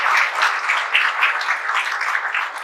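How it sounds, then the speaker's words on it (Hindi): An audience claps steadily to congratulate a sub-inspector selection, a dense, even patter of many hands, close and fairly loud with no talk. "तालियों के साथ इनके सिलेक्शन का इनको बधाई दीजिए"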